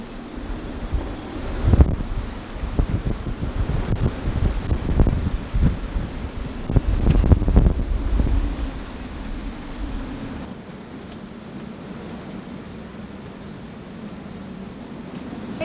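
Hurricane wind buffets the microphone aboard a heeled-over boat, with gusty roaring and water rushing below, easing to a steadier, quieter blow near the end.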